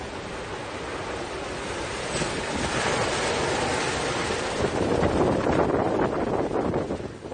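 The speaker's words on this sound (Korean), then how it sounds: "지금 파도가 이렇게 넘어." Typhoon waves surge and crash over a coastal seawall, making a loud, continuous roar of surf mixed with heavy wind buffeting the microphone.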